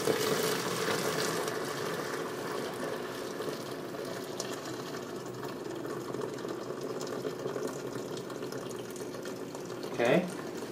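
Water and dry hopped malt extract pour into a beer fermenter while brewing a Coopers Pilsener, a steady rushing splash that runs continuously, with a brief louder gurgle near the end.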